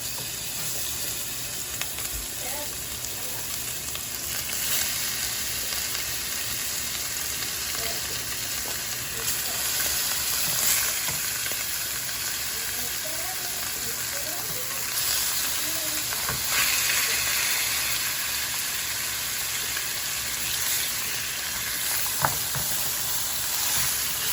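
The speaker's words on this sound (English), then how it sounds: "now we're gonna sear it. Give a nice deep sear. Use a little oil. Make sure the pan is hot." Bone-in short ribs sear in a hot pan with a little oil, giving a steady close crackling sizzle with occasional pops and brief stirring or scraping touches.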